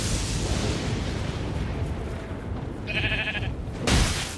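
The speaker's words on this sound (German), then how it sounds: "Kommt einfach so ein Schaf an und verpasst mir welche." A sheep bleats in Elden Ring amid a loud, rushing game-world wash, with a short nasal bleat near the middle and a sharp burst at the end.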